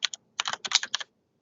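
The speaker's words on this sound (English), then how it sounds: "please forgive my loud typing here" Rapid, loud keyboard typing in close bursts of keystrokes, then a pause with a faint final tap; no voices.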